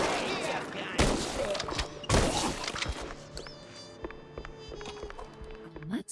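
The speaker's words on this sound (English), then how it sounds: "Shotgun is called the boomstick because of course it is." Shotgun gunfire in a first-person shooter video game, two loud booming blasts about a second apart followed by quieter game effects and clatter.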